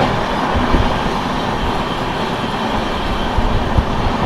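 Jharkhand Sampark Kranti Express (12826) running fast through Prayagraj Chheoki, heard from on board as a loud steady rumble with rhythmic wheel clatter and rattling carriage noise throughout.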